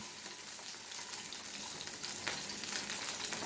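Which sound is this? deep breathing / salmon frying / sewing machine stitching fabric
salmon frying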